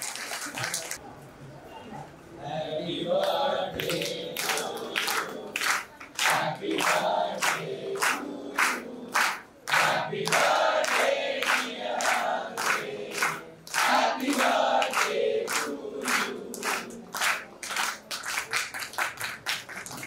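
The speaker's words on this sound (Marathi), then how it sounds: "किंवा जोरदार टाळ्या झाल्या पाहिजे" Loud, sustained clapping from a crowd at a birthday celebration in a hall, dense and steady with sharp rhythmic bursts and cheering voices mixed in throughout.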